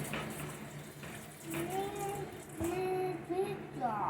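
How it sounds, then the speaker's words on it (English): Water runs from a kitchen tap into a sink in a steady, soft wash while a child and an adult talk over it. "Aspen, will you please stop with the water? Turn it off, baby"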